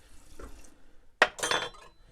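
Water splashes into a glass onto instant coffee and organic sugar for dalgona coffee, a short close pour following faint clinks.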